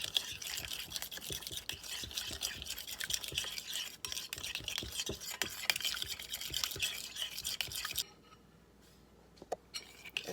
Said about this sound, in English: And now we're just going to give that a good mix.